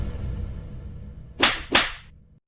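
Two sharp slaps across someone's mouth during a heated confrontation, landing about a third of a second apart over a low background hum, each crisp and loud with a brief swishing tail.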